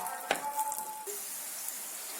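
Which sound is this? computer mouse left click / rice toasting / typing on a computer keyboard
rice toasting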